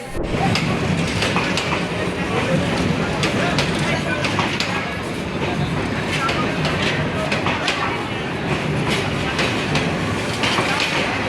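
Rumble and clatter of rail wagons arriving at a crowded station with sharp metallic clicks, continuous under a murmur of crowd voices and talking nearby.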